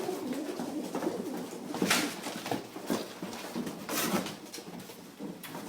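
A 2010 pigeon cock split for dilute and recessive red coos in soft, repeated low calls, close and fairly quiet, alongside faint rustling.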